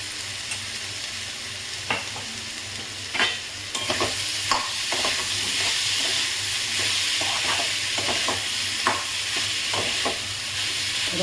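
Grated mankochu taro sizzling in a hot pan with salt, a steady frying hiss broken by repeated sharp clicks and scrapes of a spatula stirring.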